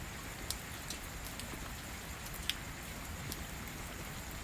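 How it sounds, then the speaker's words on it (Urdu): Strong pre-monsoon rain falls in Pothwar as a dense, steady hiss close by, with occasional sharper drop impacts standing out against the constant downpour. "جب اسٹرانگ بارش بھی اس کے ساتھ کیری ہو گئی"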